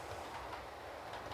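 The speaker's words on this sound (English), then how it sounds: "So now that I've actually got some trains running," Model trains rolling along a layout track give a steady, close rumble with faint clicking wheel noise, continuous and alone with no voices.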